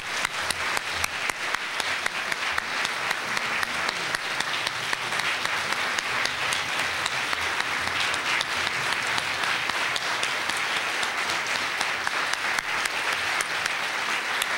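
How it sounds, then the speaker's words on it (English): A large audience applauds steadily for distinguished teaching award winners at a university ceremony, dense sustained clapping throughout with no speech over it. "Can we give them all a huge round of applause?"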